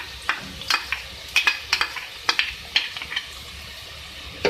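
Chopped garlic and onion fry in a pan with a soft, steady sizzle, broken by repeated sharp clacks and scrapes of a spoon stirring against the metal.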